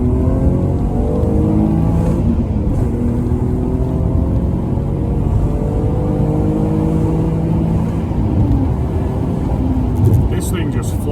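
A 2.5 V6 in an Alfa Romeo 156 revs hard while driving, its loud, close engine note rising and falling in repeated sweeping climbs through the gears over continuous road and cabin rumble.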